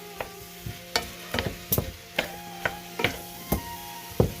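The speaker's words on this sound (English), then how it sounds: "Now we're going to give it a mix." Beef stew being stirred in a pot on an old stovetop, with a spoon scraping and knocking against the sides in a steady rhythm of sharp clicks and clanks, close by and without talk.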